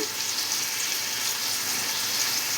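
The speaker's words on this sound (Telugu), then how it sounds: "ఇప్పుడు మనం టమాటాలు వేసుకుందాం ఇందులో టమాటాలు" Tomatoes hitting a hot frying pulao base, giving a steady, close, loud sizzle that holds evenly throughout with no voices.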